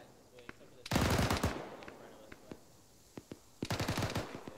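Machine-gun fire in a military video game crackles in two loud sustained bursts, with scattered single shots between them, fairly close and harsh.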